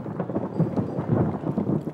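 Rain and thunder during a boat crossing between Saint-Martin and Anguilla in the Caribbean: a steady, loud, low rumble of storm and downpour that fills the whole stretch, with no voices.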